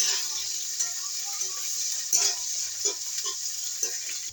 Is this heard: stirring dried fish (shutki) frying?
yes